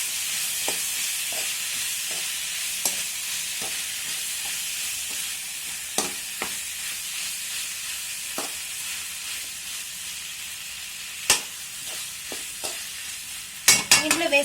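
Chole, potato and tomato mixture stirred in a frying pan, a steady background sizzle broken by scattered scraping clicks of the spoon against the pan, with a brief cluster of louder knocks near the end.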